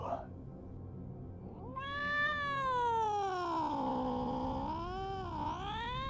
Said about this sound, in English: the cat screamed and leapt against the wall